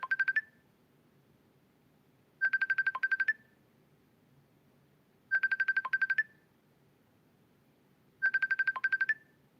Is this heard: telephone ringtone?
yes